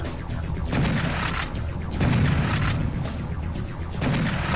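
Gunfire from the first-person shooter Serious Sam HD comes as dense, loud, continuous blasts and booms with pulsing surges, close and filling the clip with almost no talk.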